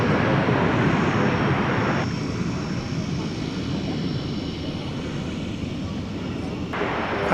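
An airliner takes off from DFW airport at night, a loud broadband engine roar that swells and holds steadily, heard from nearby without speech.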